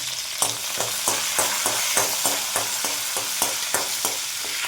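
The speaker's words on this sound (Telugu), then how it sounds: "శనగపప్పు, మినపప్పు అవి కొంచెం వేగిన తర్వాత పచ్చిమిర్చి వేసుకోవాలండి." Green chillies and dried red chillies frying in oil with chana dal and urad dal for sesame chutney, a bright continuous sizzle broken by regular spatula scrapes and taps roughly every half second.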